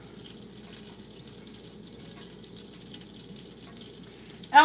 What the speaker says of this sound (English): I got some water coming out of here